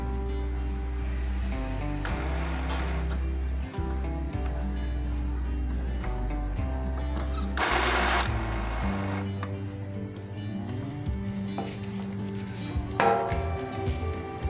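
An Epson L360 inkjet printer powers on and runs through its startup cycle, giving a continuous low mechanical whirr with shifting motor tones and occasional louder clicks and rattles from the carriage, heard close with no talking.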